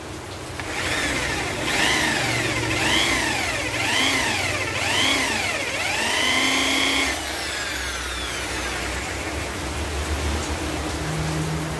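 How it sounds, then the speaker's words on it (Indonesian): An electric drill bores a small pilot hole while making a tool for removing a broken bearing: a steady, loud whine with repeated rising and falling pitch swoops as the bit bites, then a lower continuous hum. "Kita sudah tandain, sekarang kita bor."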